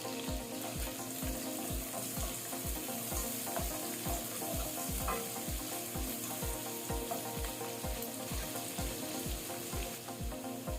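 Dried fish and garlic fry in a pan with a loud, dense, steady sizzle, cut by a regular, rapid ticking of stirring or scraping throughout.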